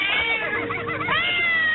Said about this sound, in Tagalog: May pusa rin ako dito, Brad.